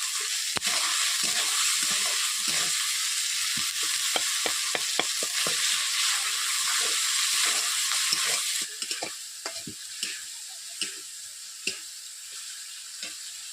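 Chopped tomato, ginger, salt and chilli powder sizzle and fry in a pan, with repeated sharp scrapes and taps of a spatula stirring them; the hiss eases off toward the end, and no one speaks.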